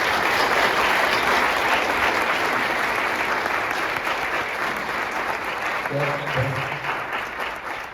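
An audience at a university lecture on campus applauds to welcome a speaker, giving sustained, dense clapping from a large crowd that fades slightly toward the end, with a brief voice heard near the close.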